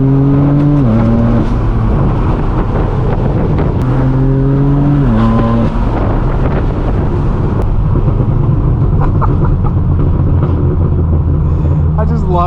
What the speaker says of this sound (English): Love the crackle map on this car